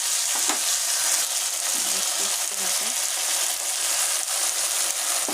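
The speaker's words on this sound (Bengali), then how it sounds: "এই যে ঝোল ফুটছে মাছ দিয়ে মশলা দেবো পেঁয়াজ বাটা দিয়ে দিলাম" A fish curry gravy with spices and onion paste bubbles and sizzles in the pot, giving a continuous, dense frying hiss that holds level throughout, with a faint voice far in the background.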